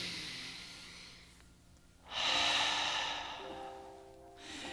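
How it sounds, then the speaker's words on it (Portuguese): A slow, deep breath is drawn in and then released, close and audible against a quiet background, with a long hushed inhale leading into a broader rush of air. "que é você puxar uma respiração."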